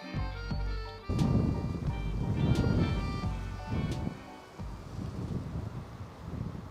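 Strong wind outdoors beside a campervan, a loud, continuous low rumble that surges in gusts, buffeting the microphone with a few sharp knocks.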